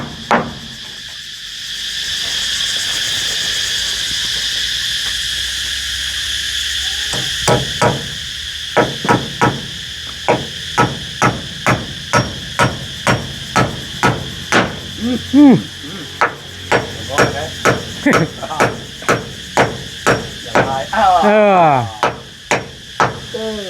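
A hammer drives nails with a long series of sharp, evenly spaced strikes, loud and close, over a steady background hum with faint insect-like chirping.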